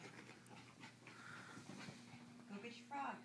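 A dog pants and whimpers close by, with soft rapid breaths and a few thin whines, faint against a low background hum.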